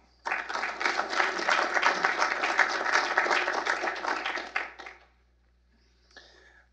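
A conference audience applauds to welcome a speaker at a transatlantic partnership event: dense, steady clapping from many hands lasting about four seconds, then fading out, followed by a brief faint sound near the end.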